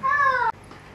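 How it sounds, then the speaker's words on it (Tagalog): A newly adopted cat gives one loud, close, clear meow lasting about half a second, dropping slightly in pitch, followed by quiet room noise. "may bago kasi kaming adapt na pusa kung kita nyo"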